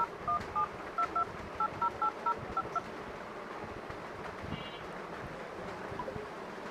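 A phone keypad sounds a quick series of about a dozen dialing tones in an even rhythm, faint against steady wind-like outdoor noise, then the beeps stop.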